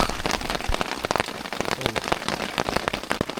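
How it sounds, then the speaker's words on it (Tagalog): Large raindrops fall at an overnight campsite by Taal Lake, drumming loudly and irregularly on a nearby surface with dense, sharp patters throughout and no talking. "Medyo malalaki yung patak."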